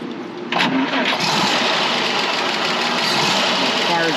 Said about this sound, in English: So I'll fire the car up.